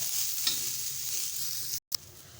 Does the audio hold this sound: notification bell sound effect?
no